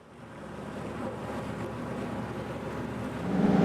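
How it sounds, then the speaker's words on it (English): Big waves on Lough Ree slapping and rushing against a boat hull in rain, a continuous loud wash of water that swells louder near the end, with no voices. "As soon as we entered the big lake, we hit big waves"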